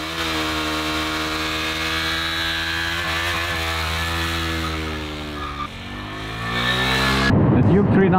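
A fuel-injected 375cc single-cylinder engine of a 2021 KTM 390 Duke revs loud and close, holding a steady buzzing tone before the pitch drops and then climbs again.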